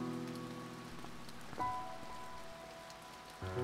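Rain falls steadily in the video game To the Moon, a soft, even patter under quiet musical tones, with no voices.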